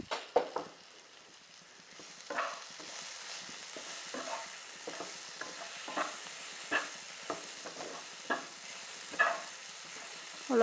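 Spice mix for onion kachori filling frying in a pan while being stirred, a steady soft sizzle broken by regular scraping strokes of a spoon, close and fairly quiet, with no talk.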